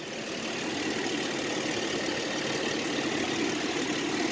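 A 2014 Toyota Tacoma's 4-liter V6 idles under an open hood, a steady, even rumble with no change in pitch or level throughout.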